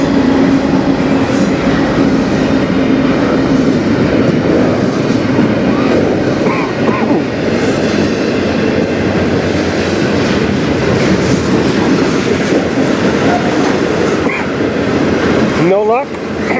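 A CN freight train rolls past close by on the Strathroy Subdivision, a loud continuous rumble with rhythmic clickety-clack of wheels over rail joints, brief wheel squeals near the end, and a voice speaking faintly underneath.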